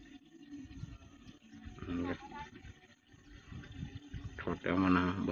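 Water running from a tap, splashing and gurgling as it fills, with a voice speaking over it.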